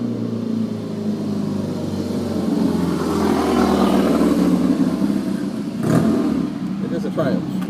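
A Triumph motorcycle passes on a road, its engine note swelling from a distant drone to a close, loud peak and then fading, with a brief burst near the end. Someone talks over it.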